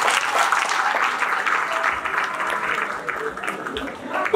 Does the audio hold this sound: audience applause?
yes